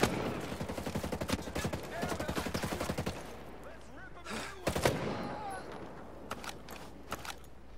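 Rapid automatic gunfire rattles in a tactical shooter, Ghost Recon Breakpoint. A dense burst of shots lasts about three seconds, then scattered single shots and short bursts follow, mixed with voices calling out.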